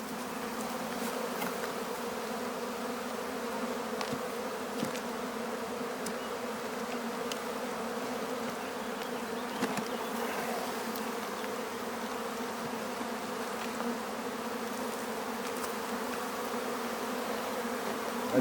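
A honeybee swarm hums steadily and densely while being moved into hives outdoors, a continuous close buzz of many bees with occasional individual bees flying past the microphone.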